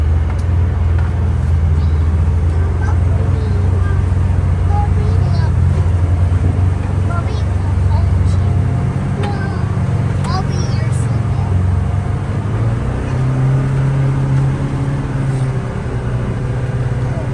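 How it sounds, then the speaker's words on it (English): Polaris side-by-side utility vehicles, a 2024 Xpedition and a Ranger 1500, climbing a hill on a trail, their engines a steady loud drone heard from inside the cab with little variation. "we'll drive these up here and see how they do on the hill test"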